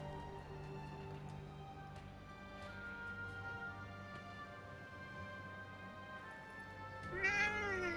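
A cat in Forspoken lets out a brief, rising meow near the end, heard over a steady bed of ambient game music, no talk.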